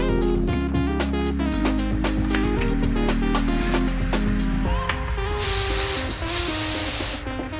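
An air compressor fitted with a chuck adapter inflates a tubeless bike tire. A steady, loud hiss of rushing air lasts about two seconds near the end, over background music.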